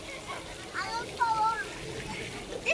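Water sprays steadily from splash-pad play fountains in a public park, a broad hiss of falling water running throughout, with people talking nearby over it.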